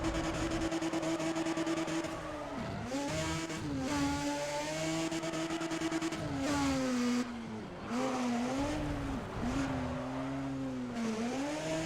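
A Mazda RX-8 drifting in the Need for Speed video game, its rotary engine revving high and rising and falling repeatedly through gear changes and slides, loud and close with no talk.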